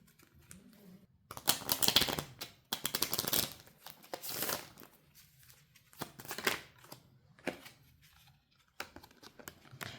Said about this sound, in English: Let me grab your final cards.